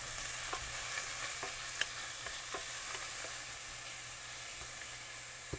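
Onion frying in olive oil in a pan gives a steady, even sizzle with faint crackles and a few soft pops, close by, with no talking.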